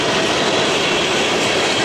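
An Elkhart-to-Bellevue freight train on the Chicago Line rolls past close by, a loud, steady broadband rumble with wheel clatter and no voices.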